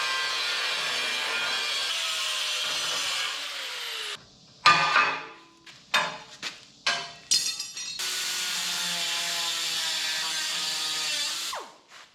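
A carbide burr grinds and rounds off cut steel corners on a 1963 Loadstar truck flatbed, making a high whining rasp followed by several short, loud bursts of grinding with pauses between them, then a longer steady whine.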